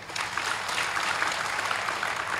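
An audience at a spiritual lecture on the Dnyaneshwari claps together in a steady, dense wash of applause that carries on evenly throughout.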